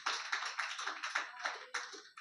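A church congregation claps in a Sunday worship service in Kakinada. The claps come in a quick, even rhythm, sharp and in unison, with no talking over them.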